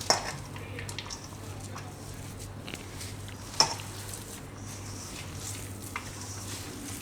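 Paneer lollipop mixture being stirred and mixed in a bowl with oil, soft repeated scraping and a couple of sharp utensil knocks against the dish, fairly quiet with faint speech.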